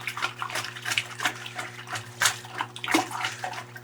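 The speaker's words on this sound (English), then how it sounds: "give this a nice, good, turbulent mix to get a bunch of oxygen mixed into this vessel" Pineapple cider is stirred vigorously in a fermenting vessel with a gigantic spoon, giving close, rhythmic sloshing and splashing strokes that rise and fall in quick succession.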